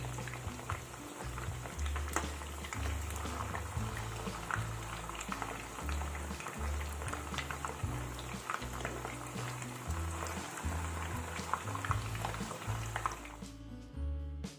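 Mutton koftas fry in oil with a steady, soft bubbling and crackle, quiet and continuous throughout, ending with a brief fade at the close.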